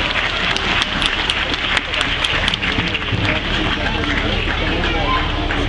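Children clapping at a gathering in Kathmandu, a dense, steady patter of many hands filling the space, with crowd murmur mixed in throughout.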